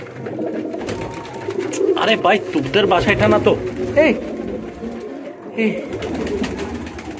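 Small pigeons coo softly in the background while someone talks over them, his voice close and excited.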